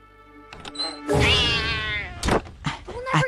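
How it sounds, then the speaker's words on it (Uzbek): An angry cartoon cat lets out a long, harsh, wavering meow at close range, drawn out and loud, followed by a few shorter yowls and bumps. "Jahldor mushuk."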